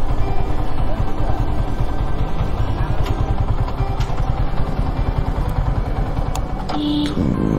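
A motorcycle ridden up and parked near Kusumba Mosque in Naogaon, its engine chugging steadily and close with a rapid low pulsing, then a few clicks and clatter as it comes to rest near the end.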